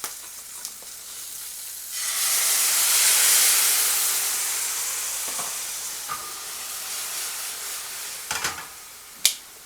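Liquid sauce of light soy sauce, rice wine vinegar, sesame oil and sugar hits a hot pan of green beans, bursting into a loud steady sizzle that swells then eases, with a few sharp clicks and knocks near the end.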